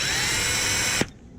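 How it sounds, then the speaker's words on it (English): An electric drill whines loudly and steadily as it bores a hole in a cane pole for a homemade fishing rod, then cuts off abruptly near the end. "We're just gonna take the drill and drill this hole."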